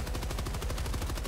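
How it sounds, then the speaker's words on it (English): In Helldivers 2 a machine gun hammers a shield with a fast, even stream of loud shots that runs through the whole short burst. "Machine gun versus shield."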